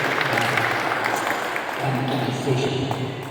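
Audience applause at a badminton event in Meghalaya, honouring the West China District, a steady even wash of clapping that holds through the whole stretch, with a low hum beneath.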